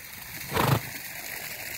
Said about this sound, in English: Hear her blowing?